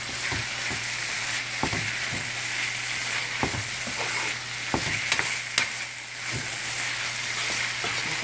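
Smoked herring and salt cod sautéing in oil in a pan, a constant soft sizzle beneath a low steady hum, punctuated by scattered spatula scrapes and knocks at an uneven pace, no speech.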